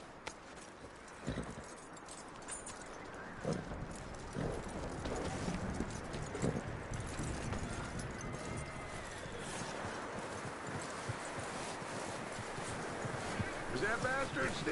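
Horse hooves clip-clopping in a video game, a steady run of rhythmic hoofbeats at moderate loudness that keeps going throughout, with game sounds around it.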